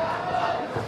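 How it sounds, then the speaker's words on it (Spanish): A crowd at a boxing match between middleweights roars and applauds in a brief, dense burst of cheering that fills the arena, continuous and loud without any clear single claps. "Aplaude la gente."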